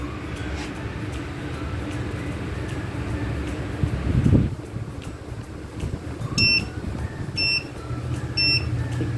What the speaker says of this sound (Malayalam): കറണ്ട് കട്ടാകുമ്പോൾ 1 ബീപ്പ് സൗണ്ടും ലൈൻ വരുമ്പോൾ 3 ബീപ്പ് സൗണ്ടുമാണ് വരുന്നത്.